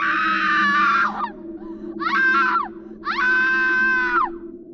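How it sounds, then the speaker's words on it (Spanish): Three long, piercing screams used as a horror effect, the first stretched out, then a short one and a longer one, loud and harmonic over a steady low hum, with no talk. "Un grito salió de algún lugar del oscuro complejo."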